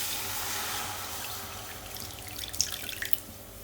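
Half a glass of water poured into a pot for cooking oats, a close splashing trickle with a few bright drips toward the end.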